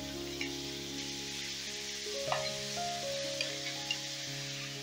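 Grated papaya frying in hot oil and ghee in a home kitchen pan, giving a steady close sizzle with a few soft stirring clicks, while a faint tonal hum runs underneath.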